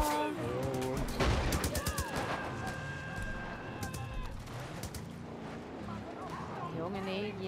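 Rapid bursts of gunfire crackle during a Far Cry New Dawn derby arena match, with repeated sharp shots in quick clusters. Someone talks over the shooting, and game sounds fill the background.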